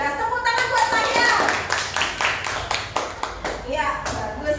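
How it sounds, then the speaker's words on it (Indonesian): Children in a classroom clapping their hands in a rhythmic series of sharp claps, mixed with children's voices and an adult talking. "Tepuk tangan buat saya."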